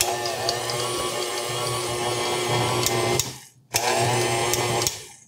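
A stand mixer runs on its low stir speed through muffin batter with chopped walnuts: a steady whirring hum that stops abruptly, restarts after a brief pause, then winds down.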